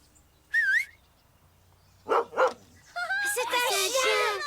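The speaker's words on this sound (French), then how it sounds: "C'est un chien. Il est mignon." A small cartoon dog makes a bright whistle-like yip, then two quick barks after a pause. Its excited, warbling vocalizing then overlaps with talking.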